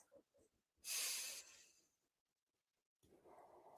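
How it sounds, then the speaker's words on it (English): One deep breath taken at the close of a calm mindfulness exercise: a single close, breathy exhale-like hiss lasting about half a second, then quiet before soft sound returns. "focus on that sound as you take one deep breath to end this practice."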